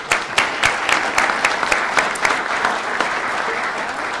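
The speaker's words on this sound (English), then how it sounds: "So let's have a round of applause for the programming." An audience at a morning community gathering claps in a steady round of applause, dense overlapping hand claps with sharper individual slaps standing out, sustained evenly for a few seconds with no voices over it.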